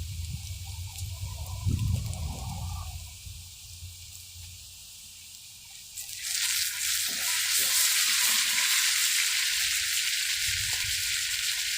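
A tomahawk steak is laid into a hot pan and sears with a loud, steady sizzle. The sizzle swells sharply about halfway through and holds there, with no talking.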